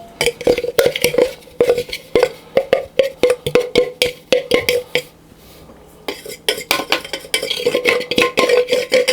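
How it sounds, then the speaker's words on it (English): A rock cake mixture is tipped into a larger mixing bowl, producing a rapid series of close clattering knocks and scrapes of utensil against bowl, with a short pause before the clinking resumes. "So then I'm going to tip that into a larger bowl."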